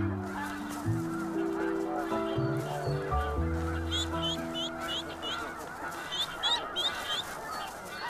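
Snow geese calling near a nest in the Arctic tundra, with repeated nasal honks overlapping in a noisy flock, backed by a continuous musical score.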